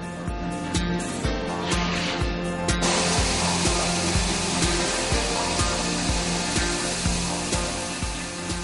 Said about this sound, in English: with the tilted abrasive belt, sanding can be done from both sides without any change or long adjusting times